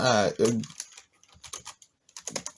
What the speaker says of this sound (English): if I can type, that would be nice